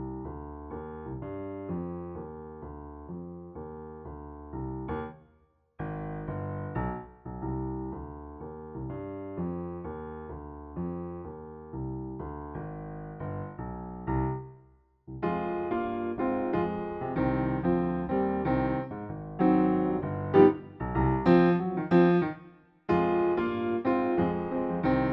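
Solo piano plays the bridge of a piece, steady chordal passages with two short pauses, then a fuller, brighter section toward the end, moderately loud and clear with no talking.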